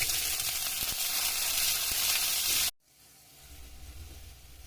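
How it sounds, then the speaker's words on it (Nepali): Onion and capsicum sizzle loudly in a hot pan with cumin for chowmein, a steady bright frying hiss that cuts off abruptly partway, leaving a quieter low sizzle. "त्यसपछि मैले यसमा प्याज राखेँ।"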